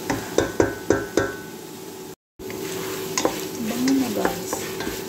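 Shrimp and softened tomato sizzle in a pan with lemongrass while a utensil scrapes and clacks in a quick run of stirring strokes, followed after a short break by a steady fry and occasional scrapes.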